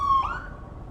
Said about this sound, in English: there's a siren coming right behind me, an ambulance